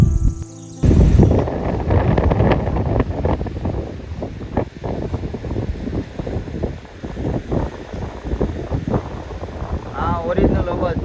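Sea wind at Daman buffets the microphone in a steady, loud rush with uneven gusts, while a voice talks over it through much of the stretch.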